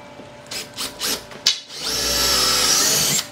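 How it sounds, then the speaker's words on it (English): Power drill boring pilot holes into a wall for a tire rack bar: a few short whirring bursts, then a sustained, louder grinding run as the bit bites in, close by and with no speech. "Let's go ahead and get our pilot holes drilled for the next bar here."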